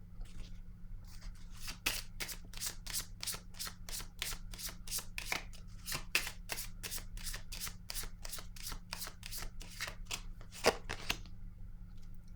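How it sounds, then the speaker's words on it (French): Tarot-style reading cards are shuffled and drawn in a steady run of crisp riffling snaps, close and fairly loud, with a few sharper flicks near the end and no talking. "Je vais piger une autre carte par curiosité."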